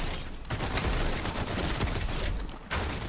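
Gunfire in the video game Fortnite, continuous rapid shooting across the whole clip, loud and dense with brief dips between bursts.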